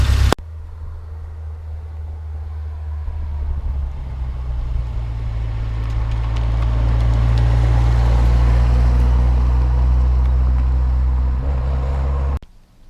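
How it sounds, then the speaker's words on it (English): A 1985 Alfa Romeo Spider Veloce engine runs close by with a steady low idle, swelling into a sustained rev around the middle before easing back and cutting off, with no voices over it. "Go ahead and rev it up a little bit again"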